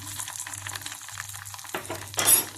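Spices sizzle and fry in melted butter in a frying pan, a steady close crackle with stirring scrapes and a brighter burst of sizzle near the end, no talking.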